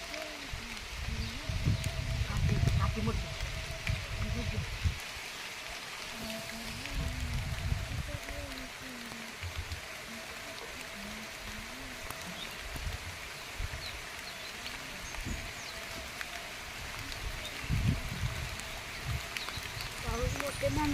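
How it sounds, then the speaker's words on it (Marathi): Heavy rain pouring down under trees in a village, a constant hiss of drops on leaves and surfaces with intermittent lower patters, while people talk over it at times. "पाऊस मोठे झालेलं आहे."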